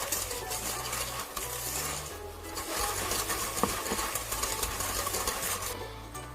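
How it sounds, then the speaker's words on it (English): Sugar, butter and avocado oil are mixed together in a bowl for fudgy brownies, giving a steady, close scraping and churning sound that runs without pause under a low hum. "You're going to mix your sugar and your butter really, really well until it's all combined."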